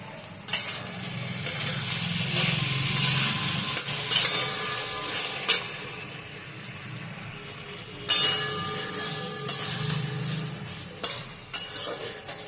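Pointed gourd (potol) fries in oil while being stirred, a continuous sizzle punctuated by sharp scrapes and clanks of a spatula against the pan.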